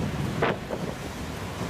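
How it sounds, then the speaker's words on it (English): Hurricane-force wind gusts buffeting an oceanside condo, a dense low roar with a sharp burst of rushing air partway through, close and loud, with no voices. "Winds are gusting to hurricane force now."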